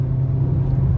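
A car in a drag race gives off a steady, loud, close engine rumble that fills the whole short moment with no voices.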